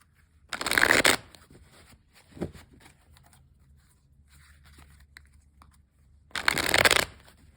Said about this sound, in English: I'm just shuffling the first deck a few more times